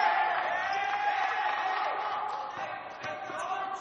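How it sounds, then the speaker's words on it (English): Crowd and bench cheer after a steal during a men's college basketball game between Brookdale and Atlantic Cape, a steady, dense roar of voices filling the gym throughout, with commentators talking over it. "little noise coming from the crowd and from the bench there for that nice little poke"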